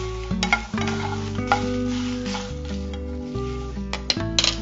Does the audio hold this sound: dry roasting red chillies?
yes